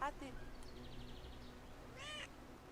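A big cat in the video game Brothers: A Tale of Two Sons gives a drawn-out meow and then a second meow, both fairly faint, with the game's background sound beneath them.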